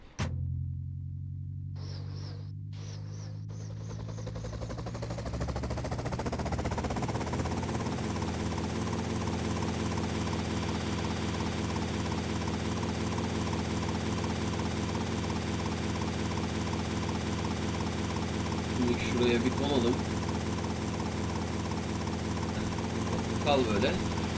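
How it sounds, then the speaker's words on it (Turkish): Helicopter in GTA Vice City, a loud steady rotor and engine drone that builds after a few quiet clicks and holds close for the whole stretch, with no talk over it. "Aa helikopteri almamı istiyor."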